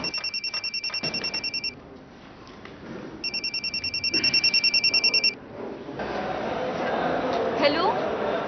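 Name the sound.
telephone ringing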